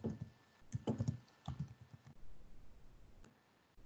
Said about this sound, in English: I'll type that again.